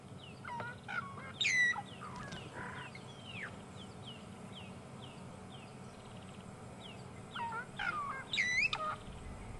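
Birds call back and forth during an evening safari drive at sunset, with loud sweeping whistled and chirping calls coming in bursts over a low steady background rumble.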